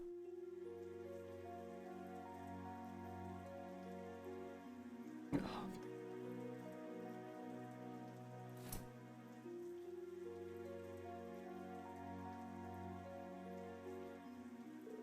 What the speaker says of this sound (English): I didn't think it was raining this hard.